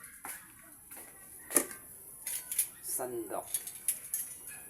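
A ladle scraping and clinking against a pan while stirring pepper into squid adobo, soft sporadic metallic taps and scrapes, close but quiet, with a faint background hiss.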